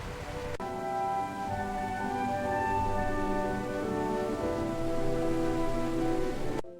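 Steady rain falls throughout a cozy rainy-day picnic, a soft continuous patter behind layered gentle music, holding an even level for several seconds before cutting off.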